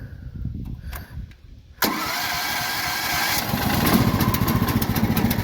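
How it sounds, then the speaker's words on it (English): A Mechmaxx SM-32 engine, a Honda-clone small gas engine, catches on the first pull after a few quiet clicks, then settles into a loud, steady close-up running chug. "I hooked it up and it fired up first pull"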